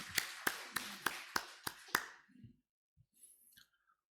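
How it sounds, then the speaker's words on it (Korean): A Korean church congregation at a Sunday service claps together in a steady rhythm, about seven crisp, evenly spaced claps, followed by a few faint thumps and a short high tone. "하나님께 영광의 박수를 드립니다."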